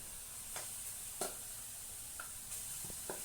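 Puran of cooked dal and jaggery is heated in a pan with a steady, soft sizzling hiss, broken by a few sharp scraping strokes as a spoon stirs the mixture.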